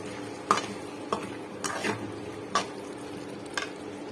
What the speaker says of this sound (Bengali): এখন টমেটো দিয়ে দিচ্ছি, ফ্রোজেন টমেটো